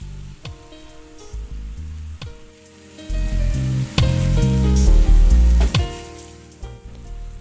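Ackee sizzles steadily in a pot as it is gently turned over, with soft scraping stirs and a hiss that swells louder midway, then eases back.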